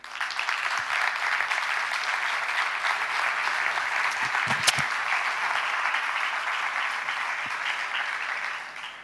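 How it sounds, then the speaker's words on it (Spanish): Steady applause from a seated audience greets a speaker at a Catalan public presentation on LGBTI policy, a dense even wash of many hands clapping that holds for about nine seconds and tapers slightly at the end. "Rebeu-la amb un fort aplaudiment a la senyora Raquel Albiol i Gilabert."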